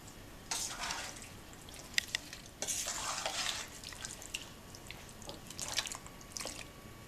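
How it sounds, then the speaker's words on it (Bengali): Meat is mixed with fried birista onions in a pan for hari kebab, giving scattered bursts of wet stirring and scraping over a low, steady background hiss, close but fairly quiet. "এখন আমি বেরেস্তা পেঁয়াজের সাথে মাংসটাকে ভালো করে মিলিয়ে নিলাম।"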